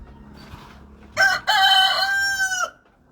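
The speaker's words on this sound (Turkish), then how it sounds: "Bu da astrolop. Alman astrolop cinsi. Horozumuz." An Australorp rooster crows once, loud and close, a long rising call with a brief break, over faint background clucking.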